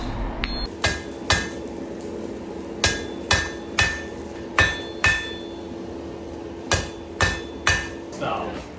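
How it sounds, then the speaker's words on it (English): A blacksmith hammers the thin end of a hot metal fire poker on an anvil with about a dozen light, ringing blows in an uneven rhythm, close and clear with no talk. "This is where you only need little gentle hits because it's quite thin at the end now"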